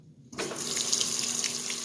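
Water rushes steadily into a GE belt-drive washing machine on a deep fill setting, starting abruptly after a brief quiet moment and continuing as a loud, even hiss and splash.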